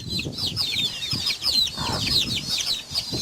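Hens and their chicks on a poultry farm make busy, overlapping clucks and high chick peeps, close and continuous.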